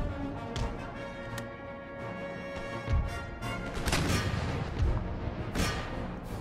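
Cannon and musket fire crackle through an Empire: Total War battle, with scattered booms and sharp volleys layered over a continuous dense din of combat, some louder blasts standing out near the middle and end.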